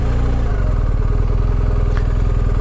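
A motorcycle's engine runs loud and close at a rough, steady idle with rapid pulsing and mechanical clatter, unchanging for the whole moment as the bike is brought to a stop and parked on a mountain adventure ride.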